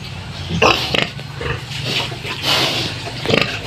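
A mother pig grunts in short bursts after castration, with several close, rough grunts scattered over low background noise and a faint voice underneath.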